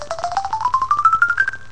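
A cell phone plays a rapid run of short electronic tones that rise steadily in pitch, like a quick ascending scale of beeps, clear and close with no talking.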